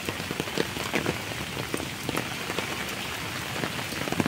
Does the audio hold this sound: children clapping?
no